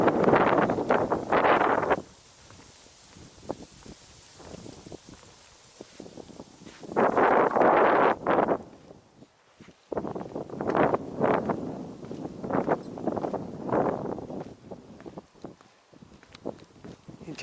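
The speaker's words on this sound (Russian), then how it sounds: "Ветер, от тебя не спрячешься." Strong October wind on an open beach at Akhlestyshev Bay in Vladivostok hits the microphone in loud, irregular gusts, with quieter rustling lulls between the bursts.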